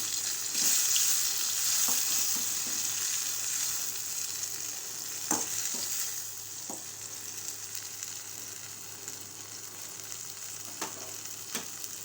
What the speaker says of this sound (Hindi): अब हम इसमें अपने ये कटे हुए टमाटर डाल देंगे और 2 से 3 मिनट इसको नरम करेंगे।